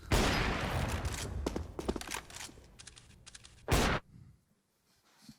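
CS:GO gunfire at a professional esports match, with dense rapid shots and cracking bursts, a final loud blast, then quiet.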